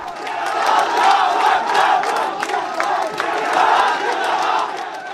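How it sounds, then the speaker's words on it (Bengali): A large crowd of university students on a campus at midnight celebrates election results with loud, sustained chanting and cheering, surging in waves throughout. "মধ্যরাতে নারায় তাকবির ধ্বনিতে মুখর জগন্নাথ বিশ্ববিদ্যালয় ক্যাম্পাস"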